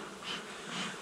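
Wasps buzz close by around a honeybee hive, a steady, faint droning hum that swells and fades as they pass, with no voices.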